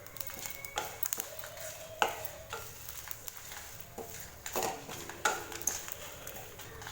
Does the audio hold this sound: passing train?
no